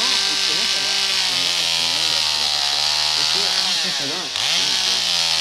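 A loud, continuous chainsaw-like buzzing drone with a wavering pitch, which a voice appears to imitate. It runs steadily for several seconds, dips briefly near the end, then resumes.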